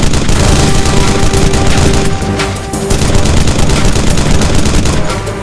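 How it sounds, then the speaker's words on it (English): Sustained machine gun fire rattles without pause in the video game Modern Combat Sandstorm, loud and dense, with heavy bursts and booms layered into a continuous battle din and no voices heard. "Chief, I'm counting on you to put that machine gun to good use."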